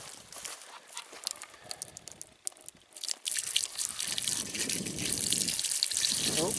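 Water from a pail is poured into a scrapyard water pump to prime it, starting as faint trickles and splashes and building after about three seconds into a steady, loud gushing pour with some sloshing.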